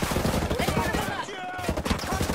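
Rapid gunfire bursts in a tactical shooter video game, loud and dense, with shouted callouts from squad voices layered over the shooting.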